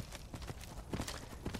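Hooves of a modded horse galloping in Skyrim, a quick run of rhythmic clip-clop beats at moderate loudness, bunched into uneven clusters over a soft rumble of ambient game sound.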